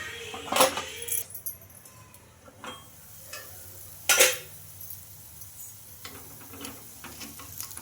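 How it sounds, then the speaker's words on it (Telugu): A spoon turning moong dal fritters as they fry in a pan, giving a low steady sizzle broken by two sharp metallic clinks and scrapes, close and fairly quiet, with no talking. "చూడండి ఇంకా స్పూన్తో అయితే తిప్పేస్తున్నాం"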